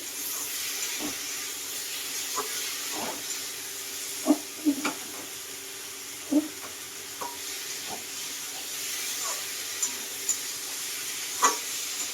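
Stinging catfish curry sautéing in a pan, a steady sizzling hiss broken by scattered stirring scrapes and small clinks, close and moderately loud with no talk.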